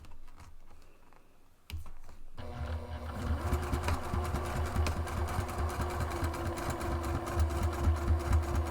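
A sewing machine runs steadily while top stitching a bag, a continuous close mechanical whir with fine rapid ticking after a brief quieter start.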